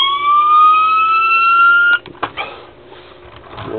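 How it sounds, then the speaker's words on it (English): A toy police siren on a custom 1:24 scale Ford Crown Victoria diecast wails in a single rising electronic tone for about two seconds, then cuts off, followed by a few clicks and faint handling noise. "the siren, same siren"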